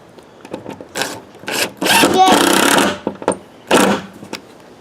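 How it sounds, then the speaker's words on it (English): A power driver sinks screws into the wood of a Rocken Adventure wooden swing set in loud, whirring bursts of a second or so, separated by short taps and pauses. "You want to screw them down until they countersink slightly in the wood."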